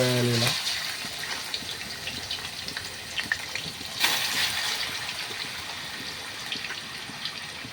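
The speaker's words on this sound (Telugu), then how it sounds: "వాటర్ అంతా ఇలా తీసేసి ఇందులోకి వేయాలి" Water gushes and splashes continuously as it is drained off chicken and poured out, with a faint clatter near the start and a brief louder splash midway.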